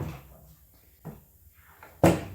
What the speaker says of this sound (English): Close our door here with two locks.